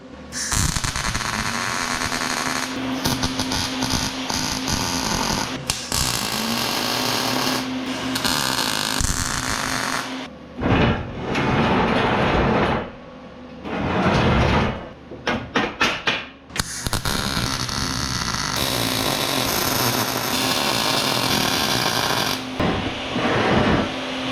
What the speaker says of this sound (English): we'll get it all tacked in before we weld it up fully.